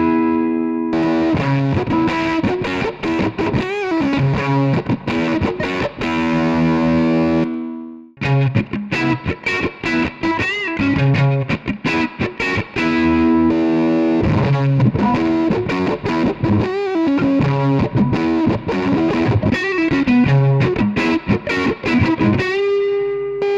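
An electric guitar plays through a Fuzz Face fuzz pedal with the amp gain raised, giving a thick, loud, saturated tone. Chords and notes ring continuously except for a brief gap near eight seconds.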